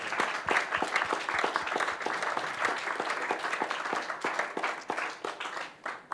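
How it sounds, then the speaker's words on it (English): A conference audience claps steadily, with dense overlapping applause that holds for several seconds and then starts to fade at the end. "Let's give ourselves a round of applause"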